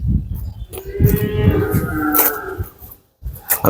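A dairy cow lets out a loud, close moo lasting roughly two seconds, followed by a short breathy snort, with faint background noise on a farm.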